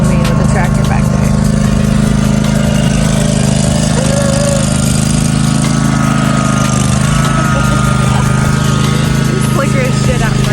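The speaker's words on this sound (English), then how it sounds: "He's pulling me with the tractor back there." A tractor engine drones steadily while pulling a vehicle, a loud continuous low rumble close by with a faint higher whine, while someone talks over it.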